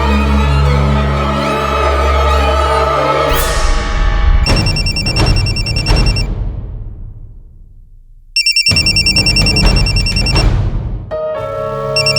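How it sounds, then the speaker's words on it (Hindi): A telephone ringtone rings loudly in repeated electronic bursts with brief gaps between them, after a stretch of music fades out. "आज आपने फोन किया?"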